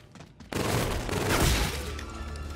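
Video game gunfire aimed at zombies in Call of Duty: Infinite Warfare's zombies mode: a sudden loud burst of shots that keeps up as a dense, continuous barrage for about two seconds.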